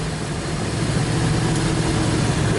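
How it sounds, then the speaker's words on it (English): A 1972 Chevrolet Nova engine runs steadily at idle, a loud, close, continuous low rumble with a busy mechanical clatter reminiscent of solid lifters, heard alone without talk. "This motor's making a lot of noise. You can hear it almost sounds like a solid lifter car."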